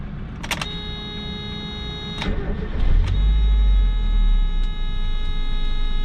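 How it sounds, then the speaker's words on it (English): Inside a 1991 Mazda Miata hardtop with the engine idling, the power windows roll up with a low motor whir, preceded by a few clicks and button taps. "We'll roll these windows up so I don't have to hear these big noisy guys going about their business."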